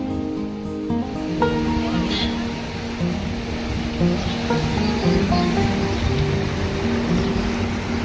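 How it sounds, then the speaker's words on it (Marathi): Steady roar of surf breaking along the shore at Kunkeshwar, Devgad, continuous and fairly loud, with a low humming tone running underneath. "बघ समुद्र भारी आहे ना"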